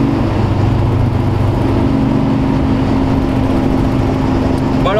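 Porsche 914 with a 2.0L engine heard from inside the cabin while driving: a loud, steady low drone and hum that holds evenly throughout with no pauses.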